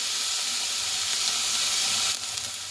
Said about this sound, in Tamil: இந்த கொஞ்சம் வதங்கணும் லீஸ்ட்டு.